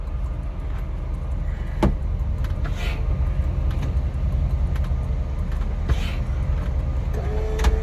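Power convertible roof on a Chevy SSR with a 6.0L V8 opening, a steady electric motor whine running under a constant engine idle rumble, with a few faint clicks and mechanical clunks as the top moves.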